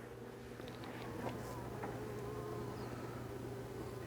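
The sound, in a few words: honeybees buzzing in the top brood box of a hive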